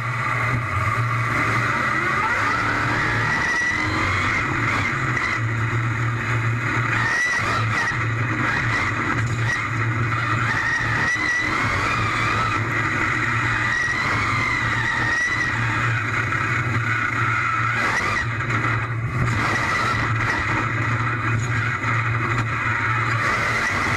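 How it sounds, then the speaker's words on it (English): Inside a real monster truck on a bumpy ride, the engine drones loudly and continuously, with rough rumbling, rattles and occasional revving surges throughout. "Want to see what it's like riding inside a real monster truck?"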